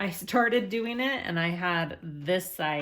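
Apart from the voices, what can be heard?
None of the usual background noises is heard.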